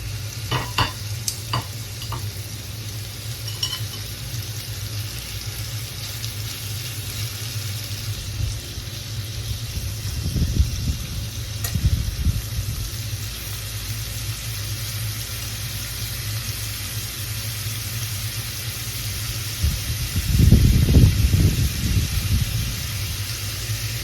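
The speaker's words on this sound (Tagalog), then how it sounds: "Ipa-fry lang natin siya hanggang sa mag-golden brown." Ingredients for a creamy mushroom beef pasta fry in a pan toward golden brown, a steady close sizzle and hiss with occasional stirring scrapes and louder bursts of crackle around the middle and near the end.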